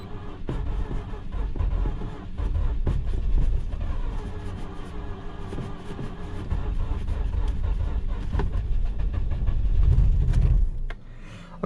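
A 2004 Mazda RX8 with a rotary engine cranks again and again without catching. The starter churns loudly and unevenly for about ten seconds, then cuts off abruptly near the end.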